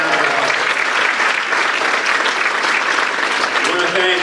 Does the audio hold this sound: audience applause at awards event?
yes